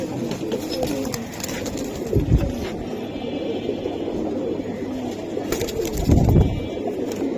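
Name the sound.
pigeons cooing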